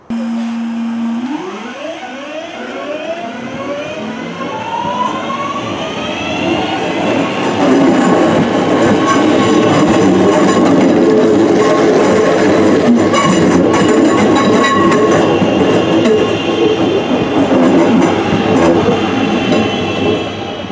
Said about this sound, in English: So all the trains today will be using this platform right behind me here.